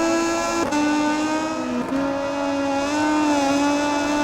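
Moto2 racing motorcycle engine in MotoGP20 at Mugello, a steady loud whine that briefly drops and climbs again as it shifts into fourth gear, with a second short dip later, no talking.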